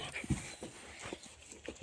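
A dog, a Kangal or a Doberman, whimpers at night near a construction site in a few short, soft whines and yelps spread over a couple of seconds, with faint background noise between them.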